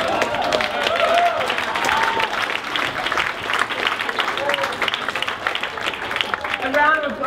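Audience applause at a drag comedy show, sustained dense clapping that fills the room, with a voice speaking over it.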